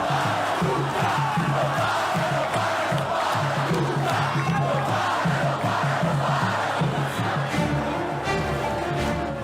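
Football fans in a stadium at a Brazilian cup final between Flamengo and Corinthians, a huge crowd chanting and roaring together in a loud, sustained, rhythmic wall of voices.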